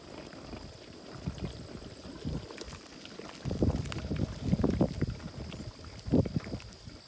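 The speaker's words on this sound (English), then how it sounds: "I'm gonna let this come to a boil, and then it's gonna boil for 40 minutes" Six quart jars of tomatoes in a water bath canner, water coming up to a boil; low irregular bubbling and rumbling that grows stronger partway through, with a steady hiss underneath.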